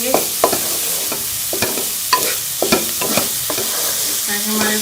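Onions and tomatoes sauté for a chicken samosa filling, a loud close sizzle broken by repeated rhythmic scrapes and knocks of a spoon stirring the pan.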